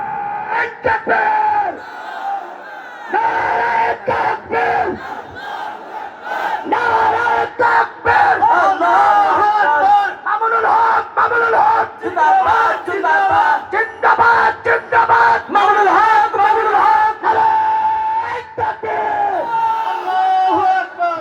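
A large rally crowd chants the slogan "khamosh khamosh" in loud, rhythmic unison. Repeated shouted bursts swell and surge over about twenty seconds, with brief dips between the waves of voices.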